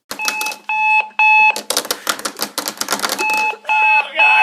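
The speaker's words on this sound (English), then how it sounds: "the supersonic boom alarm clock with built-in bed shaker has been turned on" A Super Sonic Boom alarm clock with built-in bed shaker blares loudly up close, harsh rapid clattering bursts alternating with piercing steady electronic tones, with voices reacting over the racket.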